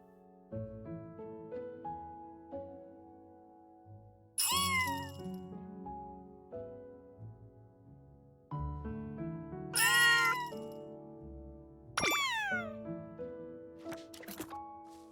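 A cartoonish cat meows several times in the Little Witch in the Woods video game, with clear separate meows spaced seconds apart over soft music and chiming game sounds, with no talking.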